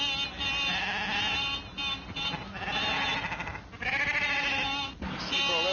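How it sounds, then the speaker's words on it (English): A flock of sheep bleats on a country road, overlapping calls rising and falling in loud bursts close by, with a constant low rumble underneath. "Sheep all over the road, damn silly things."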